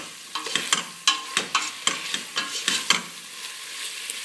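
A lamb and runner bean stew with chili pepper being stirred in a pot, giving a rhythmic series of scraping, clattering strokes roughly every half second over a soft sizzle, close and without talk.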